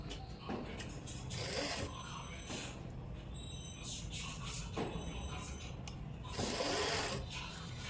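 A sewing machine runs in short bursts, stitching frilled lace onto a dupatta, with a fast mechanical whirr stopping and restarting several times close by.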